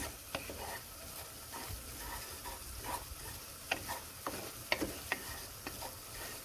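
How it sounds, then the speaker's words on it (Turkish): Flour browning in oil and butter in a pot, stirred steadily for soup: a soft sizzle under irregular scraping and spoon taps, fairly quiet throughout with a few sharper clicks. "Gördüğünüz gibi unun kokusu çıkana kadar iyice kavuracağız."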